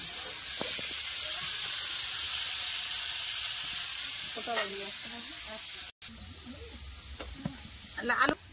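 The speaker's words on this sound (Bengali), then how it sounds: "আলুটা ভালো করে লাল করে ভেজে নেবো।" Potatoes sizzle steadily in hot oil in a pan with salt added, a continuous close hiss broken by occasional scraping stirs and a short gap near the end.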